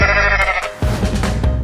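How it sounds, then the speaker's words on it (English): A goat gives a loud, close bleat, one long wavering cry followed by a rougher second burst. "Goat."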